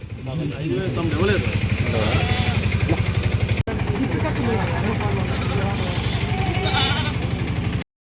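Sheep and goats bleat repeatedly amid a noisy crowd of voices, with a motorbike engine rumbling in the background of a busy weekly tribal forest market in Kasipatnam.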